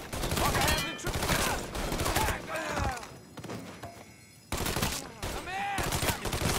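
Heavy gunfire in Mafia 3 Definitive Edition: loud, dense volleys of shots and impacts, with shouted in-game dialogue between bursts and a brief quieter lull in the middle.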